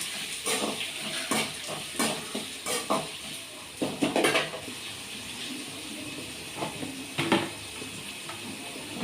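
Onions sautéing in a pan under a continuous hiss, with repeated scraping and clanking strokes of a utensil against the pan that come in clusters, louder in the first half, then fewer taps later.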